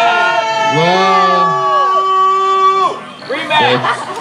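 A wrestling crowd reacts to a new NVW World Heavyweight Champion with loud, sustained booing and jeering, voices rising and falling in long drawn-out howls, briefly dipping before surging again.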